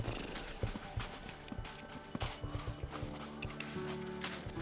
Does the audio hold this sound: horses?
yes